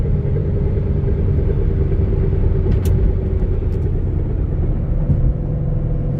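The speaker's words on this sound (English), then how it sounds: "Car's driving nice and straight." A Ford Mustang Shelby GT500 cruises along a road with a steady, loud low engine rumble and road noise throughout, with no other sounds standing out.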